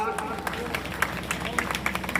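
An audience claps at a welcome ceremony with garlanding and turban-tying at a water-scheme foundation event in Bhadra, a scattered, moderate patter of hands under a speaking voice.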